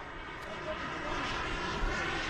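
Model L-39 Albatross jet coming in to land at a jet rally, a continuous broadband turbine roar and hiss, fairly close and steady throughout, with voices nearby.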